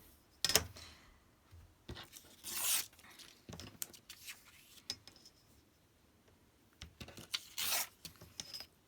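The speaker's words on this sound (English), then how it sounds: "I might have to just tear it down a tiny bit, just so it fits." Paper torn by hand for a collage-style paper pack, several short ripping bursts separated by quiet pauses, fairly close and moderately loud with no talking.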